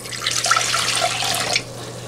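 Tap water runs into a container in a kitchen as a steady hiss and splash lasting about two seconds. It is fairly loud and close, then eases off at the end.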